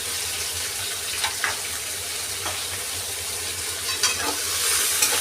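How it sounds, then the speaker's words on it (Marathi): Rice mixture for masale bhat with pavta and masoor dal being stirred after homemade onion-garlic masala and turmeric are added, a steady soft hiss with occasional spoon scrapes and clinks against the pot, close by. "आणि ह्याला छान असं मिक्स करून घ्यायचं आहे आपल्याला"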